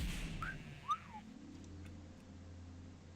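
A short, faint two-note whistle emote from a character in World of Warcraft, heard as a quick rising then falling whistle against low background hum, with no talking.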